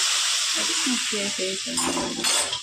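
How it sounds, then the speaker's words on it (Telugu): Hot tempering of fenugreek, mustard seeds and cumin poured into a pot of Andhra-style sambar: a loud, close sizzling hiss that flares up near the end, with someone speaking over it. "ఇప్పుడు తాలింపు తీసుకొని సాంబార్లోకి"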